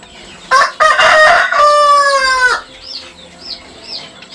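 Chickens kept as breeding hens cluck loudly and close, with a long drawn-out crow-like call, then softer calls fade in the background.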